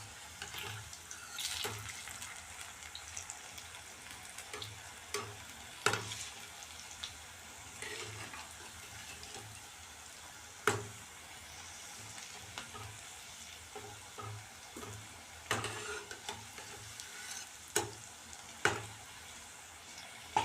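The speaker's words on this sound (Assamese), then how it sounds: "ৰঙচুৱা হোৱালৈকে ভাজি ৰাখিব।" Cabbage pakora deep-fry in hot oil with a continuous bubbling sizzle and scattered sharp pops and clicks from turning, heard up close without speech.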